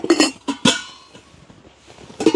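Metal cooking pots and vessels from a set being handled, giving several sharp clanks and clinks in quick bursts with a pause in between, close and fairly loud, with no talking.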